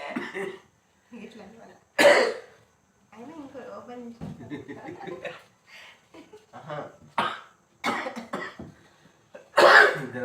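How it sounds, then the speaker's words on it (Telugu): A person coughs several times in short, harsh bursts between quiet stretches of faint, low activity. "దగ్గుడే అవుతుంది దగ్గుడు తుమ్ముడు అవుతుంది"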